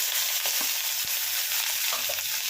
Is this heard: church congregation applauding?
no